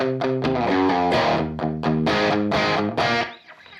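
A distorted electric guitar plays a verse riff in octaves, with quick rhythmic picked notes and short muted gaps, loud and up close, ending with a brief fade.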